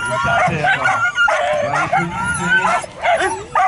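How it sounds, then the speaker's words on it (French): Greyhounds gathered behind racing starting boxes bark, yip and whine in a rapid, excited chorus, loud and close, with repeated high whimpers between sharper barks. "Les lévriers sont arrivés derrière les boîtes de départ."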